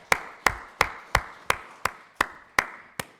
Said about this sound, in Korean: 우리 성경 1도 올려주신 분 우리 칭찬 박수 하겠습니다